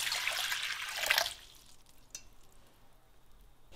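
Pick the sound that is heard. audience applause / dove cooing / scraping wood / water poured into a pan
water poured into a pan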